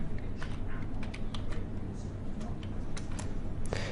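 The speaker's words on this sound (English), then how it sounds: "So we type in your username," Fast, irregular clicking of keys on a computer keyboard as login details are typed in, steady close-up tapping throughout over a low background hum.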